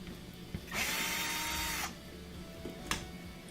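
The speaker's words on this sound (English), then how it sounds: "It's two Phillips head screws that we have to pull out here on this bracket." Power screwdriver or drill whirring for about a second while backing out Phillips head screws from a pump bracket on a Frigidaire dishwasher, followed by a brief faint tool sound, no talking.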